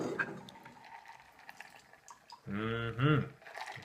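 Gin gimlet cocktail with fresh lime juice poured through a strainer into two glasses, a short liquid splash and trickle near the end after quieter background noise.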